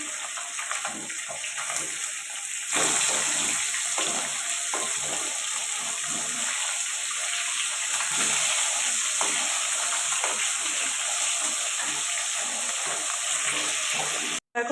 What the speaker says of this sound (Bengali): দেখো মাছটা এখানে ভাজা করতে বসিয়ে দিয়েছি